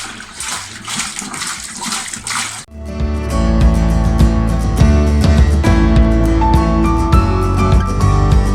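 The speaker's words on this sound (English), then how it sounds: "you're going to top this up with your water to the level of your jar" Water runs into a 5-liter jar holding washed, harvested brewing yeast and stirred-up sediment: a soft rushing pour gives way to a louder, gurgling, ringing fill close to the microphone, with no speech.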